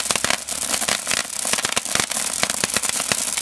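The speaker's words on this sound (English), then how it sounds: "Got a bit of a crackle to it as well." A titanium spark star pyrotechnic composition burns with a dense, continuous crackle, rapid sharp pops layered over a steady hissing roar, loud and close throughout.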